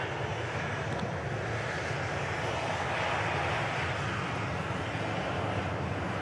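A Virgin airliner departing Manchester Airport for Bridgetown, Barbados, sends a broad, steady engine roar that swells slightly midway, with faint wind noise and no speech.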